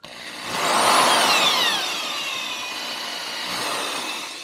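A power drill bores out a hole in a Delrin suspension bushing for a KS S22, a steady whining buzz that rises, holds, then eases off, with a faint squealing pitch sliding downward as the bit cuts the plastic.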